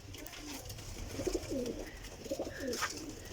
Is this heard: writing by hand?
no